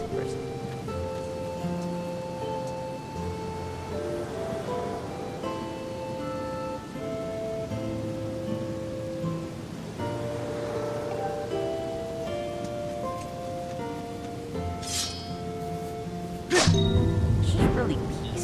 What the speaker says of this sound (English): it's raining here. I think this is, yeah, probably our first time seeing rain in this game